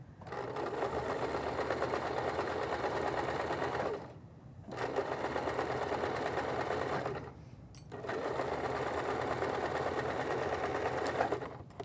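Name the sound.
sewing machine forward and back stitching an apron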